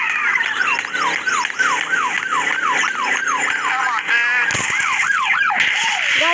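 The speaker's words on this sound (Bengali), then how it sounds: "পুলিশের গাড়ি এসে গেছে।" Police car siren from the video game Dude Theft Wars wails in a fast, repeating up-and-down pattern, loud and close, with a brief burst of other game noise near the end and no talking.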